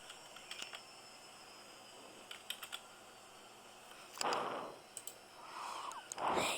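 Someone types a password on a computer keyboard: light, quick key clicks in small scattered bursts, with a couple of louder rustling thumps in between, in a quiet room.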